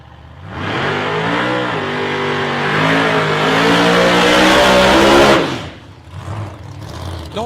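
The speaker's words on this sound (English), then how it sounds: "Nice straight burnout for Greg Angus in the Monaro. Car just seems to spin the tyres, get them nice and hot and sticky" A Holden Monaro drag car does a straight burnout at a drag strip, its engine screaming at high revs for about five seconds while the tyres spin, loud and close, then cutting off abruptly.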